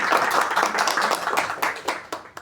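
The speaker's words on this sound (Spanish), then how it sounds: "y le vamos a dar un fuerte aplauso, por favor." An audience at a book launch claps for a young writer, a brisk burst of hand claps that starts dense and thins into a few scattered, distinct claps by the end.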